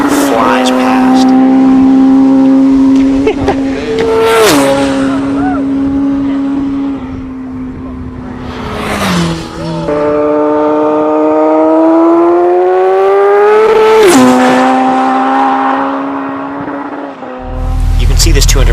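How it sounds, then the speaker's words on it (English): A racing motorcycle tears past at around 200 mph, loud and close, its engine howl rising and dropping sharply with each pass, repeating several times over a constant roar. "The feeling of a bike coming by at 200 miles an hour is a visceral ripping of the air as it flies past"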